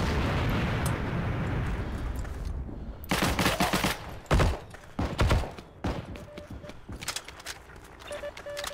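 Enemy gunfire in the online shooter Heroes & Generals: a sharp cluster of loud, rapid shots bursts out midway, followed by a few further scattered volleys over a noisy battlefield rumble.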